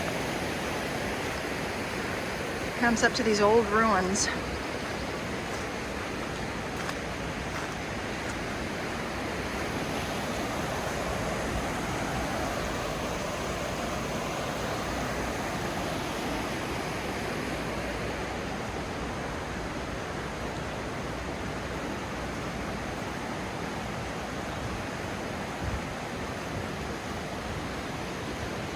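Steady broadband rush of Sweetwater Creek flowing beside a hiking trail near old mill ruins in Georgia, constant and fairly close, with a brief spoken remark near the start.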